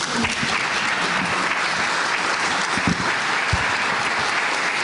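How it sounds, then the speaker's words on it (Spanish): Applause from an audience at a session on writing biographies, dense steady clapping throughout, close and loud, with no talk over it. "El aplauso es para ustedes."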